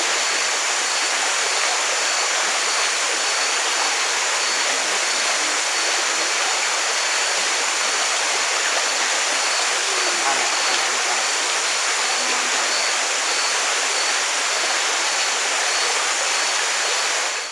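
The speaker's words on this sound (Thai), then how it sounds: "น่าจะได้ยินแต่เสียงน้ำเนื่องจากว่าเขากางเต้นอยู่ใกล้แคมป์น้ำ" Stream water rushing steadily beside a forest campsite, a loud, continuous, even hiss of flowing water with no breaks from start to finish.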